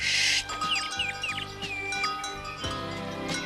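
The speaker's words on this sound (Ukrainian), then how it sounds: "Це маленьке пташенятко" A tiny cartoon chick in an animated Heidi episode lets out a quick string of high, thin chirps and tweets. They sit over soft background music with light tinkly accents, and no one speaks.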